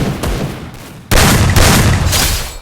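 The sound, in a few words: gunshot headshot in a shooting video game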